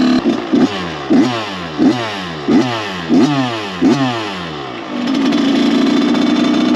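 A Kawasaki KX 85 two-stroke dirt bike engine revs loudly and close in about seven sharp, rising bursts, then settles into a steady high-pitched drone at the end.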